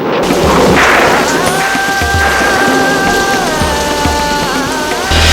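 A storm brings loud, dense rain pounding steadily on a surface, with occasional low booming rumbles beneath it and a sustained musical tone layered over the downpour.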